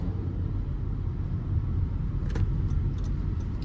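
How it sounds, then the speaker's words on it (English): A Honda WR-V RS rolls over speed bumps at about 30, giving a steady, close low road rumble with a few brief rattling knocks near the middle and no talking. "Now let's go through the speed bumps, and let's go a bit faster, around 30."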